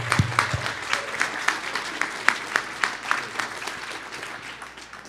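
A panel audience applauds a guest, a room full of clapping with sharp individual claps popping out, fairly close and sustained before slowly thinning.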